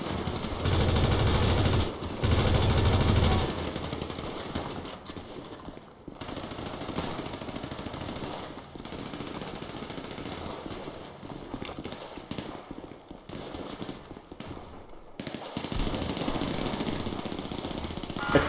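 Gunfire crackles through a police shootout in a GTA LSPD roleplay gun store robbery, with bursts of rapid automatic shots, pauses of quieter ambience and renewed volleys, mostly mid-distance.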